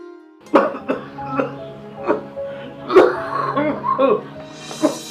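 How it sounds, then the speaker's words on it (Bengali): A person coughs repeatedly in short harsh bursts, several spaced coughs and throat-clearing sounds close by. "কাশিটা দিন দিন বাড়তেছে"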